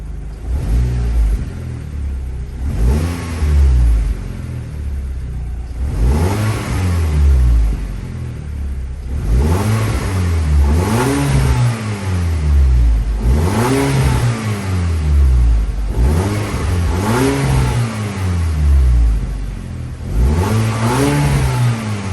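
Revving a Golf MK5 GTI through its stock exhaust produces a series of about seven loud throttle blips, each rising and falling, with the engine settling to idle between them.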